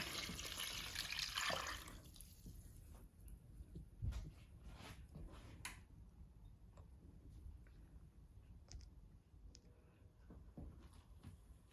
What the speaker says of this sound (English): We are going to add 2 cups of water into the pot.